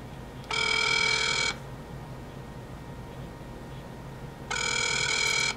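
Telephone ringing over speakerphone while a call is being transferred, two long electronic ring bursts about a second each separated by a hiss-filled pause, fairly loud and without talk.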